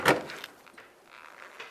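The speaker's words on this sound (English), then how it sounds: "Now let's grab onto the door and we'll carefully pull it away from the body of the vehicle." A front door on a 2005-2010 Dodge Dakota is pulled away from the body, a sharp close clunk at the start followed by faint rattling and light creaks.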